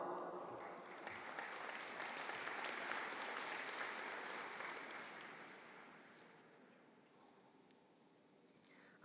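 Steady applause from a graduation conferring ceremony audience, loud and sustained through most of the stretch before gradually thinning and fading toward the end.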